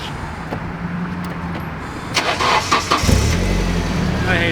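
Nissan 240SX engine cranking at a gas station, a short close run of starter churning that catches briefly into a rough engine rumble, with faint voices in the background.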